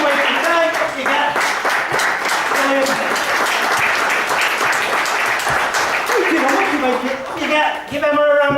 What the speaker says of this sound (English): give Emma a round of applause.